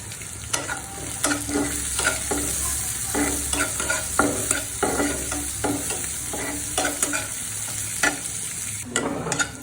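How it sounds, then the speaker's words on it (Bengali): Chopped onion and garlic sizzle in hot oil close up, broken by repeated scraping stirs from a spoon, with no talking. "দিয়ে গোল্ডেন কালার করে ভেজে নেব"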